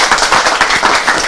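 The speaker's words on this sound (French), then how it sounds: "mais on applaudit pour la dame, s'il vous plaît." Close, loud clapping from an audience at a traditional music gathering, a brisk continuous patter of many hands filling the short moment with no talk over it.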